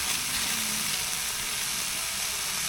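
Marinated steak sizzles steadily in a pan at a van campsite, a close, continuous hiss and crackle with no speech over it.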